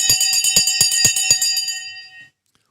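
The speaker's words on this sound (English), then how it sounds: "The bell has just gone as well." A stock market opening bell rings in a rapid, even series of bright metallic strikes for about two seconds, then decays cleanly into silence.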